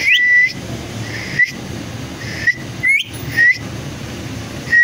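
Pet parrot named Mitthu whistling: several short, shrill rising whistles come in separate bursts, spaced about a second apart, close and clear over a low background hum.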